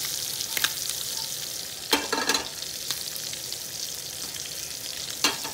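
Green beans (haricots verts) sautéing in olive oil and butter, a soft continuous sizzle under occasional scraping stirs and light utensil knocks against the pan.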